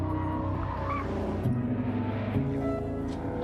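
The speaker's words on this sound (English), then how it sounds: "That's the sound of the quickest production sports car in the world today, the Cobra." A Shelby Cobra sports car drives fast with a steady engine roar and squealing, skidding tires, loud and continuous with no talking.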